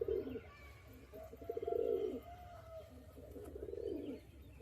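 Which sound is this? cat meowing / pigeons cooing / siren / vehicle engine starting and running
pigeons cooing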